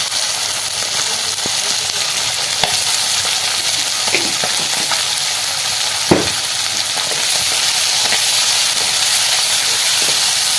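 Food frying in a pan with turmeric gives a steady, bright sizzle and hiss throughout, with a few soft clicks and one sharper knock partway through; no one talks.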